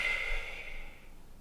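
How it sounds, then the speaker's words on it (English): A single loud, exaggerated exhale during a gentle yoga session in bed, a breathy rush of air close to the ear that fades gradually over about a second. "Don't normally breathe out with this much noise. I'm just doing it for effect for the camera so you can hear."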